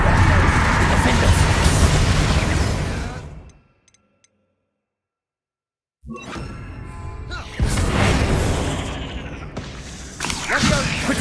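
Bombarda blasting spell going off in the Hogwarts Legacy video game, a loud burst of crashing, shattering impact sound that cuts to near silence, then more thudding, crackling spell effects and combat noise resume.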